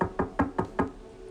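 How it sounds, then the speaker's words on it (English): Knocking on a door at a garden gate in a staged Julius Caesar play: four evenly spaced, firm knocks in quick succession, close and clear, then quiet. "Somebody knocks."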